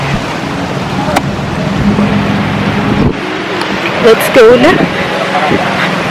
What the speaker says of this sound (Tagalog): Kanina pa ito naka-on yung sasakyan